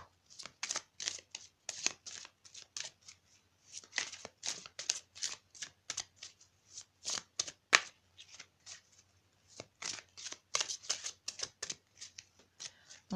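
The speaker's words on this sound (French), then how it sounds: "Alors on va continuer de mélanger un petit peu." A deck of tarot cards is shuffled by hand, close up. The crisp riffling bursts come in quick, uneven rhythmic clusters with short pauses between them.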